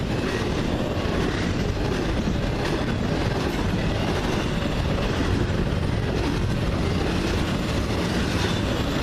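A CN freight train, Q198, rolls past at Ladysmith as its final cars and rear distributed power unit go by, a loud, steady rumble of wheels and wagons with clickety-clack filling the whole stretch, close and alone.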